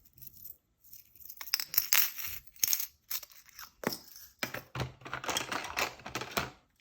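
Small metal dip pen nibs being handled, light clinking and rattling taps in irregular bursts, close and fairly quiet, with no talking.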